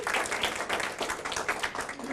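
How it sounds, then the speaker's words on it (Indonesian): An audience at an Indonesian Tiens health-product presentation in Jombang claps, a dense, even wave of applause from many hands, close and steady throughout. "Aplaus dong untuk produk Tiansi ya"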